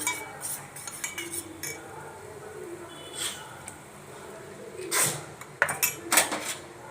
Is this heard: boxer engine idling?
no